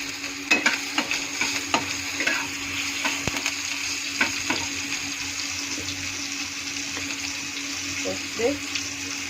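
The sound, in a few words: asafoetida and green chillies frying in hot oil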